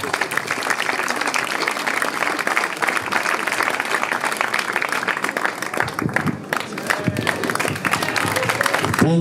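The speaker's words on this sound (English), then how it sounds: "A big applause for Centro della Dervio, please." An audience at a regatta prize-giving ceremony applauds in a dense, sustained wash of clapping that carries on throughout, briefly thinning near the end.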